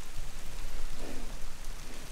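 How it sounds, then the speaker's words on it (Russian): Steady rain falls on a garden bed of early-planted spring seedlings, a constant close hiss of drops with no voices. "Дождь пошел."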